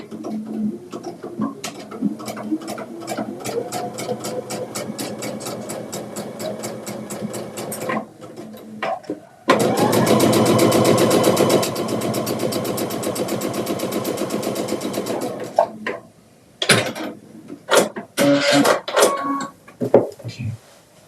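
Domestic sewing machine stitching a quilted table topper: a steady rapid needle rattle, then a longer fast continuous run, ending in short stop-start bursts, loud and close.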